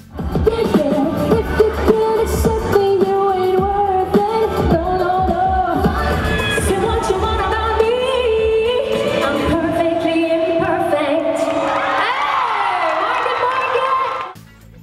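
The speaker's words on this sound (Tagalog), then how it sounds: "nang lumabas na ang kanilang idolo, wala nang tigil sa hiyawan ng loyal popstars" Fans of Sarah Geronimo scream nonstop at her mall tour at Market Market, a dense, loud wall of crowd shrieking and cheering that stays high throughout and cuts off at the end.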